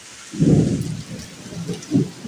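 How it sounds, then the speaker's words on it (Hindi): Low thunder rumbles in a storm, a close, heavy roll swelling then fading, followed by a softer second rumble over faint rain-like hiss. "इससे बादल गरज रहे हैं"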